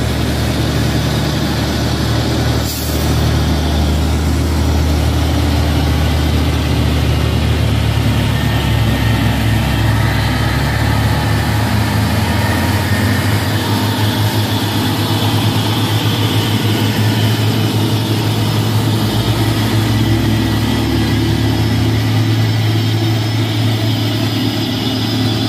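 Fuso and Hino trucks run with a heavy, low diesel rumble that stays loud and continuous. It swells and shifts in pitch as they pass nearby, and a short sharp burst comes near the start. No one speaks.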